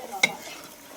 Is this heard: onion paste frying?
yes